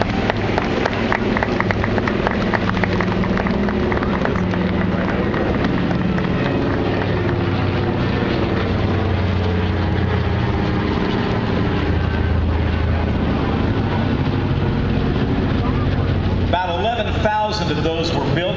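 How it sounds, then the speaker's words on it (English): A World War II C-47 transport aircraft flies over during a Washington DC flyover of WWII planes, its engine drone loud and steady throughout, mixed with crowd noise and a voice. "Here comes the C-47."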